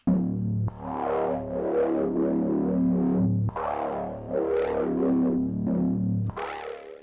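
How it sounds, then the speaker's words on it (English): A sustained synth bass line from NI Massive with a resonant filter sweeping slowly, giving a wah-like, buzzy movement across repeated notes, with no voices. "which adds a really nice resonant slow filter"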